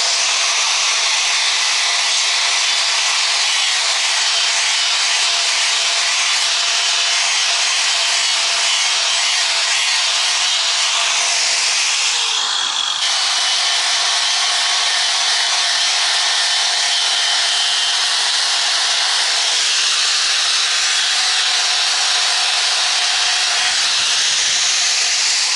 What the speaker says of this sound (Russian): я свои железки все эти зашлифовал